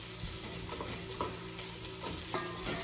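Garlic and onion sautéing in a pan as spaghetti sauce is started, a steady soft sizzle with occasional stirring scrapes and clinks throughout, moderately loud and close.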